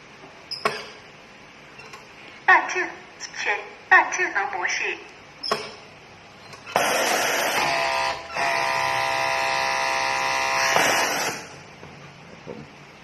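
Jack C4 industrial sewing machine, a high-speed model, buzzing in short bursts and then running steadily for several seconds at high speed, loud and close, with someone talking nearby.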